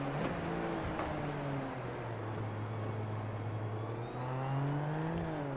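Superformula Lights single-seater at Fuji International Speedway, spinning after too much throttle: a mid-distance engine rising and falling in pitch through several revving swells, steady and fairly loud, with no one talking.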